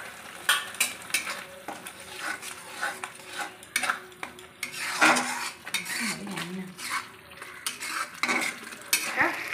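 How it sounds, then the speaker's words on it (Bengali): Spice masala for chicken frying in a pan, with steady scraping and clinking of a spoon stirring against the metal over a soft, continuous sizzle, close and fairly quiet. "নাড়াচাড়া করে নেব। হতে থাক মশলাটা।"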